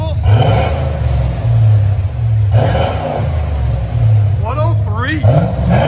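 A 1986 Chevy Corvette 5.7L V8 with Flowmaster Super 10 dual exhaust revs in repeated loud bursts, a deep roaring burble rising and falling close by, with a person speaking over it.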